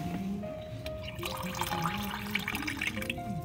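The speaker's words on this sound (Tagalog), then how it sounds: "Buksan mo yung gripo, anak." Water running from an opened household faucet, a faint, steady trickle with light splashing and dripping that continues for several seconds.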